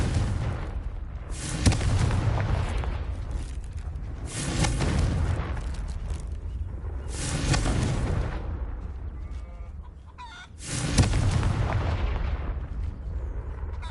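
Repeated Confringo fire-blast spells in Hogwarts Legacy: several loud, broad whooshing bursts a few seconds apart, each swelling and fading like explosive flame blasts over a steady rumbling background, with no talking.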